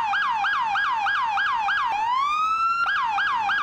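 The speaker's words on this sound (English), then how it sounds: "They don't seem to be respecting our lights and siren as much as they do the fire trucks." An emergency vehicle in EmergeNYC sounds its siren loudly and up close, a rapid rhythmic yelp that briefly shifts into a long rising wail before returning to the fast cycling pattern.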